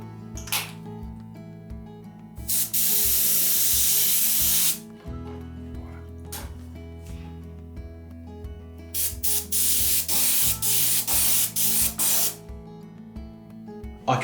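Airbrush spraying Fastrax pearl blue paint straight with no reducer at 45 psi onto an RC car body shell, heard as loud hissing bursts of varying length, one long pass followed by several short rhythmic sprays over a steady low compressor hum.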